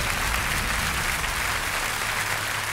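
Cabaret audience applauding the magicians Marc and Alex after their appearances act, a loud, even, sustained roar of clapping filling the room.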